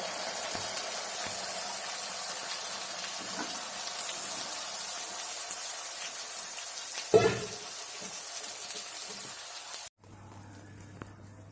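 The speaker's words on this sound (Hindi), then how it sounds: "अब इसको हम बीच बीच में ऐसे ही चलाते रहेंगे और मसाला अच्छी तरह से भून लेंगे" Ground spice paste frying in hot oil for Kashmiri aloo dum, a soft continuous sizzle close by with one brief clatter of a utensil near the end before the sizzle drops away.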